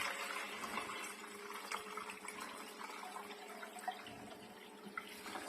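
Water trickles and splashes over white yeast skimmed from turnip juice, a soft continuous pour with small bubbling spatters, close and quiet.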